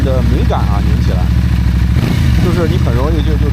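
A Benda Napoleon 450 motorcycle engine idles with a deep, muffled exhaust, and its sensitive throttle is twisted for a short rev midway. Someone talks over it throughout.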